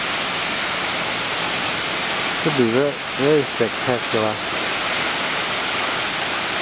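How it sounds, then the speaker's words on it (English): Strong wind blows water outward off a double curvature concrete dam in a valley, making a steady, broad rushing roar throughout, with someone speaking briefly over it midway. "the wind's coming up the valley and getting behind the double curvature concrete dam and blowing the water outward."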